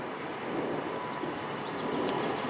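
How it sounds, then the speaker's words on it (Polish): A Pendolino train passes at Czechowice as a broad, steady rushing roar of moderate loudness, with faint tonal whines from the rails or motors and a brief sharp squeal near the end. "A to pociąg Pendolino w Czechowicach."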